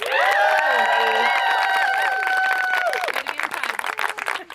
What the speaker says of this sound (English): please, a big round of applause for Ella Hansen.